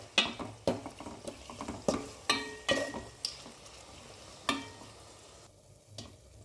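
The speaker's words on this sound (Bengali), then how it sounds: "পাতিলে পর্যাপ্ত পরিমাণ পেঁয়াজ এবং তেল দিয়ে দিলাম। এরপরে গরম মশলাগুলো দিয়ে দিয়েছি। এখন এটা হালকা একটু ভেজে নেব।" Onions and garam masala fry in oil in a cooking pot while a spoon scrapes and stirs in about a dozen sharp, rhythmic strokes over a soft background sizzle, close by and without talk.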